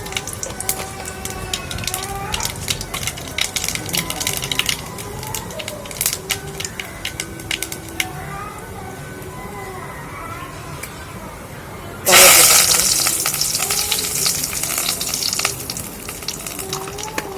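Mustard seeds dropped into hot oil in a pan on the stove erupt in brief, bright crackling and spitting bursts after a quieter stretch of kitchen sounds, then settle into a steady sizzle.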